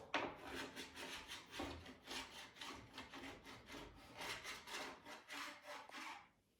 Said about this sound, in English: scrape from the tip of your ski down to the bottom of your ski, like so, and you'll see that there's excess wax that's being scraped off